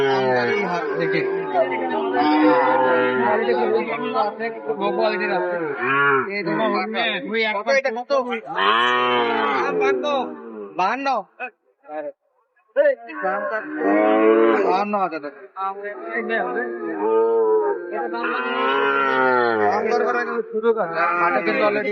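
Cattle low now and then amid a busy crowd at a cattle market in Ambari, with several people talking and calling out prices continuously over the animals.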